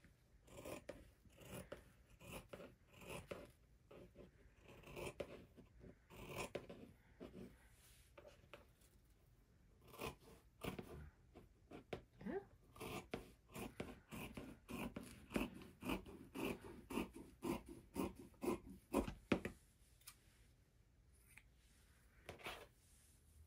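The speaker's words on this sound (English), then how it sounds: "I'm gonna cut off the selvage area because I don't want to use this." Scissors cut off the selvage of fabric while a graduation stole is sewn. The blades give quiet, rhythmic snips and rasping slides along the cloth, close and faint, with no talking.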